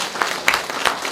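Audience applause at a talk concert in Gwangju, a steady wash of many hands clapping at moderate loudness with a few brighter bursts standing out.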